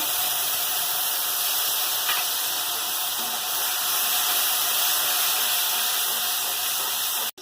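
Garlic paste, bay leaf and five-spice seeds hit hot oil with caramelised sugar in a pan for a Bengali potol curry, giving a loud, steady, hissing sizzle that stays even throughout and cuts off abruptly at the end.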